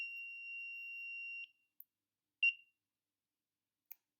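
Drowsy-driver detection software on a vehicle sounds a steady high electronic alert tone for about a second and a half, followed by a few short isolated beeps against silence.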